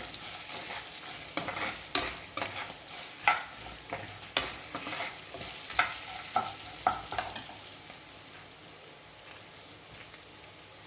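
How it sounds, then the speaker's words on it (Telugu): Turmeric being stirred and fried in a pan for lemon rice, with soft continuous sizzling broken by a series of sharp scraping clicks of the spoon against the pan, nearby and without speech. "బాగా కలుపుకొని కొంచెం వేయించుకోవాలి."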